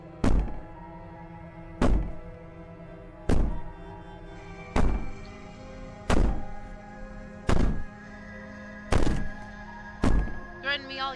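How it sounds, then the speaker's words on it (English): Heavy thumping in the video game Slay The Princess: eight loud, evenly spaced booming thuds about 1.5 seconds apart over a low droning backdrop, with faint sounds near the end. "The thumping sounds so much louder."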